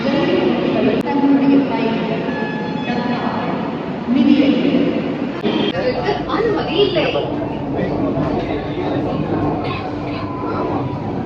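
A Chennai metro train rumbling along steadily, loud and close, with people chattering in the background throughout.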